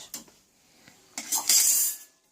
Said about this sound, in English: Now I'm going to change the blade